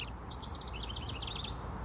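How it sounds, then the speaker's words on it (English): A small house wren sings a quick, bubbling trill of rapid chattering notes, faint and somewhat distant over a low background rumble. "there's the house wren."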